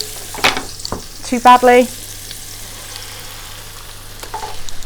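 Vegetables for a gluten-free summer frittata fry in oil in a pan, a steady low sizzle running throughout, with a brief stir and a short spoken phrase partway through.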